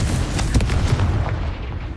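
A rumbling blast from the Confringo fire spell in Hogwarts Legacy, loud and continuous with booming low end and crackling bursts that fade toward the end, with no talking.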